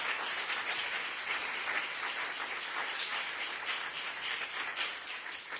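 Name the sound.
church congregation applause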